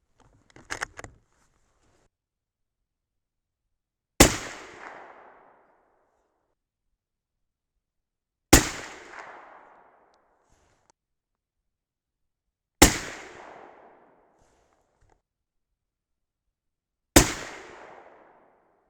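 Four loud, evenly spaced 6.5 Creedmoor rifle shots, 140 gr Hornady SST bullets loaded with Varget powder, each a sharp crack with a short decaying echo and a few seconds of quiet between, after some faint handling clicks at the start.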